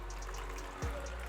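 Water poured into a cooking pot of palm oil for native palm oil rice, a soft short splash and trickle against a steady background hum, close and fairly quiet.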